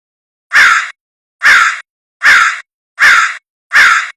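A person mimics a crow's caw with their voice, giving five loud, evenly spaced caws close to the listener, each one harsh and nasal, separated by short silences.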